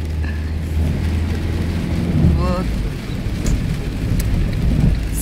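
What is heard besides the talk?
heavy rain with thunder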